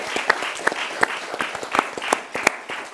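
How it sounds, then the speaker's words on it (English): An audience at a food-writing panel evening claps steadily, with individual hand claps distinct in a moderate, close round of applause. "let's have a round of applause for them before we go"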